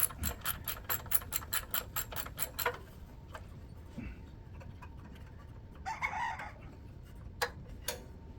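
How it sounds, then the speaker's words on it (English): A ratchet wrench clicks rapidly in an even rhythm for about three seconds while loosening a size 10 bolt on a Kohler 6.5 hp engine of a wood splitter, then stops, leaving a quiet background with a brief rustle. "I'm going to take off one of these bolts, one of these sizes 10."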